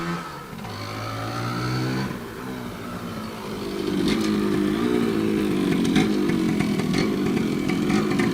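A 1993 Kawasaki KE100B motorcycle engine, freshly rebuilt, runs close by, idling unevenly and then revving up to a steady, louder buzzing drone.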